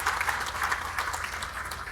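Audience applause for sponsors at a design-build competition awards event: steady, dense clapping from a crowd held at an even level for the whole stretch, with no voices over it.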